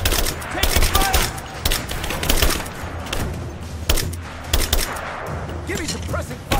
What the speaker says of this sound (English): Give me suppressing fire now!